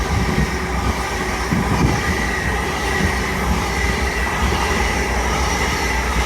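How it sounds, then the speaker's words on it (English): An LNER Azuma class 801 train runs through Doncaster station on the East Coast Main Line, a steady loud rumble of wheels and carriages throughout, with no distinct two-tone horn standing out. "Pass through Naz and LNER Azuma from London King's Cross to York."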